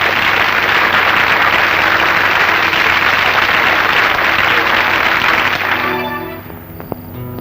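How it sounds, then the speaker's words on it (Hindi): Sustained crowd applause at a school principal's farewell, loud and dense for about six seconds, then tapering off into scattered claps and faint background chatter. "चलो ताली बजाओ भाई"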